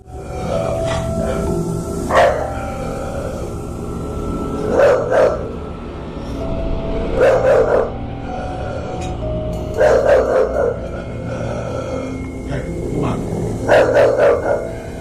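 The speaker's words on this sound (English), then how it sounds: "In the recording, the dog barks directly at a dark cloud, as if it were seeing something inside it." A dog barking in a kitchen, sharp loud barks in clusters of two or three, repeated about every two to three seconds over a constant background hum.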